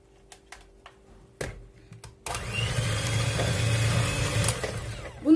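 After a few sharp clicks, an electric whisk switches on and whirs steadily and loudly for about three seconds as it beats separated egg whites with a pinch of salt in a bowl, with no one speaking.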